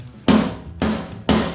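A hammer taps a part of a Jeepster body into place: three sharp, evenly spaced metallic knocks, close and loud, each ringing briefly before the next.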